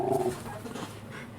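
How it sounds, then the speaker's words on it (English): A dog whimpers and pants close by indoors, a short high whine followed by soft breathy huffs, with no talk over it. "excuse my dog, interrupting the broadcast here."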